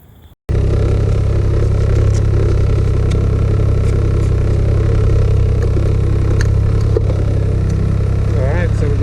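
A Can-Am Ryker 900 cc three-wheeler starts up after a short quiet moment, then runs with a loud, steady low engine drone close by, while a voice speaks over it briefly.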